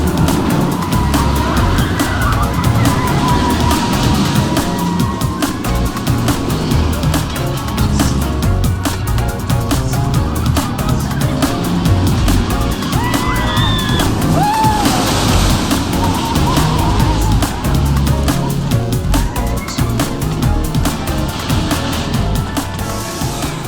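A ride on the Skyrush roller coaster at Hersheypark on a cold day, a loud constant roar of wind and rushing track noise with rattling and faint screams, sustained for the whole stretch.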